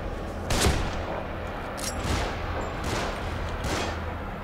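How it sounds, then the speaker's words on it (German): Gunfire in the survival horror video game The Evil Within, with a heavy shot near the start and further blasts and thuds spread across a dense, noisy game soundscape. "Ein Schuss."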